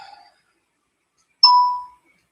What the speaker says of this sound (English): Notifications that I'm live. I know that.